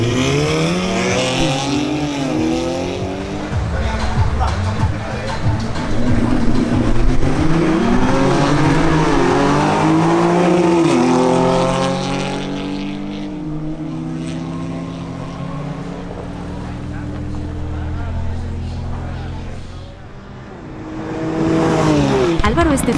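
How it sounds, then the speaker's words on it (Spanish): BMW X3 M and Audi S3 cars accelerate hard in a drag race duel, loud rising engine notes sweeping upward through repeated gear changes, then fading and returning as another car approaches. "tenemos un duelo entre Álvaro Estefanel en su BMW X3 M versus Arturo Polo en su Audi S3"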